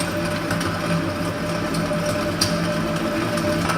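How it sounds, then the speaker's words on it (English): Electric stand mixer whipping eggs for a semolina cake, a continuous steady motor whir with a close, even mechanical hum and a faint rattle, running without talk. "Just going to pour it into the mixer."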